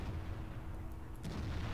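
A Panther tank in World of Tanks fires a deep, booming shot that lands as a ricochet, one muffled blast against a heavy rumbling battle backdrop with no talking.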